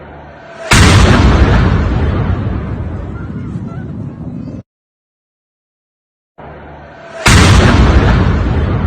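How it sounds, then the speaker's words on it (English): Rocket blast hitting a residential building in Baghdad's Al-Qadisiyah complex, a loud boom erupting into a long rumbling roar, cut off abruptly, then a second loud burst of roaring noise, distorted and close. "Video shows the moment that a rocket exploded in the Al-Qadisiyah residential complex in Baghdad."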